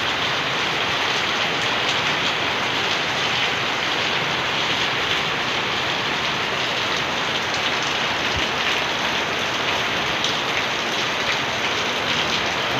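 Heavy rain pours down in a dense, continuous, loud roar of drops hitting surfaces, unbroken from start to finish with no voices.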